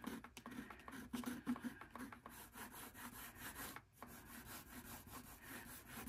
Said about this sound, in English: I'm going to go back in with the palette knife. Kind of scrape some of that away